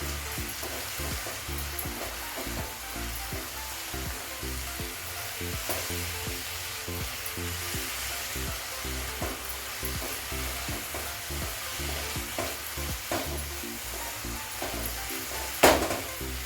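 A pan of coconut barfi mixture with a spoonful of ghee is stirred steadily, a soft continuous sizzle and scraping with a brief sharper clack near the end, no voices.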